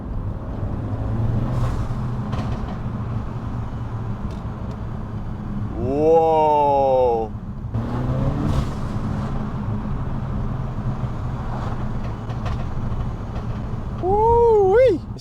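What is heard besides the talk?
Peugeot 308 GTi engine and turbo with custom induction kit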